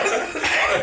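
Loud, sharp coughing heard close up, a quick harsh burst of two coughs with a rasping throat sound in under a second.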